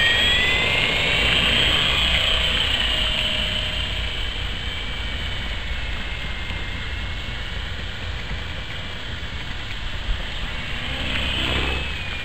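A Corona RC helicopter's rotor and motor whine steadily overhead, loud and sustained with slight shifts in pitch as it flies in strong wind.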